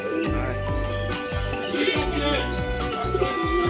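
Pigeons coo in low, repeated throaty pulses close by, a rhythmic series of soft calls with faint chirps around them.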